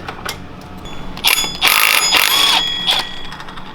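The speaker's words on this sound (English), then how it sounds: "Now we got to take out this bolt and the rear bolt with the impact." Impact wrench loosening the pulley bolts on a 150cc GY6 go-kart CVT, a few short mechanical bursts followed by a longer loud whirring rattle, close up with no talking.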